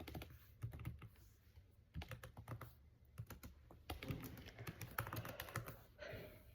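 Typing notes on a computer keyboard: quick, irregular clusters of soft key clicks and taps continue throughout, faint and close, with no talking.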